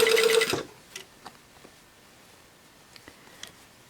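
A sewing machine stitching a bodice seam runs in a short loud burst at the start, then stops, followed by a few faint scattered clicks and taps of fabric handling.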